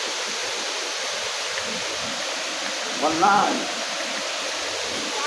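Continuous broadband rush of the Bono Manso waterfall in Ghana, steady and fairly loud, with a man's brief spoken word near the middle.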